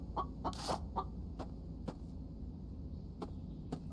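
Chicken in the survival game The Infected, giving short scattered clucks amid faint ambient noise, quiet and close, with no talk.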